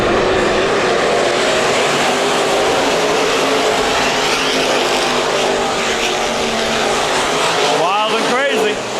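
IMCA Modified race cars roar around Perris Auto Speedway during opening weekend, a loud, dense engine drone that holds steady throughout, with a track announcer's voice rising over it near the end.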